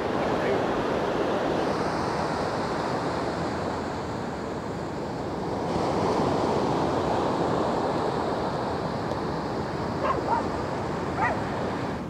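Ocean surf at a beach in Santa Cruz, California, a steady broadband wash of breaking waves with some wind noise, continuous and moderately loud throughout with no clear talk.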